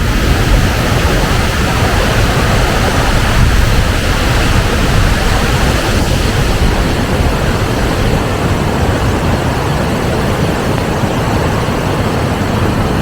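Edessa waterfall pours in a constant, dense roar of rushing water, loud and unbroken from start to finish with no voices over it.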